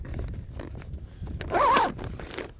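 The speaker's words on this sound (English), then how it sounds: "And then you just zip the bag back up" A zipper drawn shut on a Seekoutside backpack bag, one steady rasping pull lasting under a second, close and clear, after some quieter handling noise.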